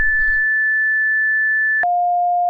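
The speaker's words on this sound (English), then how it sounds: "Make sure it's not too loud because tones are about to drop." Fire dispatch tones drop in the firefighting game Into the Flames: a long steady high tone, then an abrupt shift to a lower sustained tone, loud and clean with a brief low rumble at the start.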